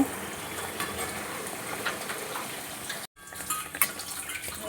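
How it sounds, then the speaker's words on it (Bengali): Luchi frying in hot oil give a steady, dense sizzle and crackle that fills the whole stretch, moderately loud and close, with one brief dropout and a few sharper pops near the end. "আমার তেল গরম হয়ে গেছে আমি এভাবে সব লুচিগুলো ভেজে নেব"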